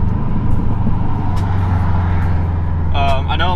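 A car with a manual transmission drives along with a steady low engine drone from inside the cabin, and a voice is heard briefly near the end.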